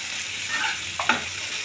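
Onions fry in a pan with a steady hiss while a utensil stirs them, giving a couple of brief scrapes and a light tap close by, without any voices.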